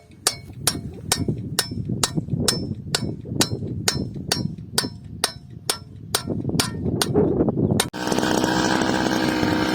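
A motorized brush cutter, cutting grass on a mountainside, drones steadily up close with regular sharp metallic ticks over it, then the engine tone shifts abruptly near the end.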